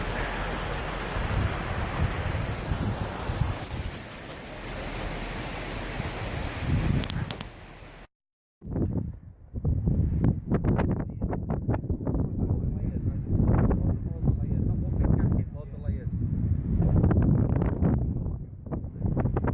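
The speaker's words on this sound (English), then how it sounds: "I just got the camera out and the wind's picked up, so apologies for any noise on the audio." Heavy wind buffets the microphone with a rough, rumbling roar for several seconds, then cuts out briefly before gusts return under a person talking.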